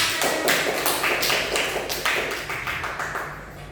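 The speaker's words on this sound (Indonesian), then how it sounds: "beri tepuk tangan kepada teman-teman" A classroom group claps together in dense, rapid applause, close and fairly loud, fading slightly over a few seconds with no talking over it.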